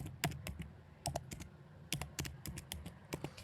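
Computer keyboard typing as a name is entered into an online form: bursts of quick, close key clicks in irregular clusters with short pauses, quiet and alone.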